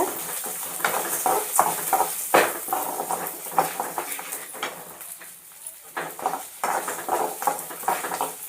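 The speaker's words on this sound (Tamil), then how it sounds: "இப்போ இந்த கொள்ளை இதோடு சேர்க்கலாம் கொள்ளு நல்லா வறுத்துக்குங்க" Dry horse gram rattling and scraping in a pan as it is roasted and stirred, with irregular clinks and a faint sizzle underneath.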